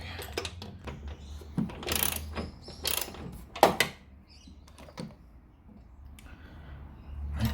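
Close, scattered clicks and ratcheting rattles from a socket wrench working on a bolt of an old Toyota 5S-FE engine, with quieter knocks and gaps between them and no talk.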